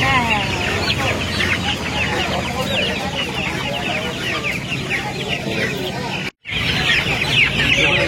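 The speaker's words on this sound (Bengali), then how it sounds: "অস্ট্রেলিয়ান মুরগি আছে।" Australian-breed chickens cluck and chatter in a dense, continuous flock at the Uluberia hen market, close and steady with voices mixed in and a brief gap near the end.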